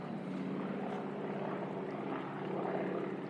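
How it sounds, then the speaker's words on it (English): A Harvard propeller aircraft drones overhead, its radial engine with no reduction gearbox making a continuous rough buzzing roar that stays steady and fairly loud throughout. "Oh, boys are flying. That's probably a Harvard, that horrible noise."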